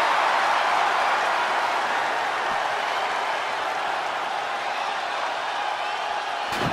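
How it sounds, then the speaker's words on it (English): A wrestling arena crowd in WWE 2K20 roars and cheers continuously, a dense, loud wash of noise from many voices that holds steady throughout a tables match, with no distinct speech standing out. "The crowd never gets tired of The Rock's antics."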